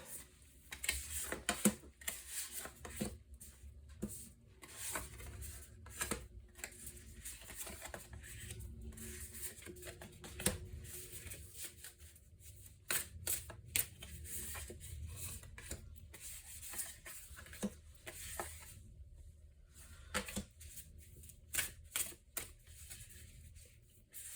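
Tarot cards being shuffled and laid out for a nine-card spread, a soft continuous rubbing and riffling texture broken by frequent quick flicks and taps of cards, close and fairly quiet with no talking.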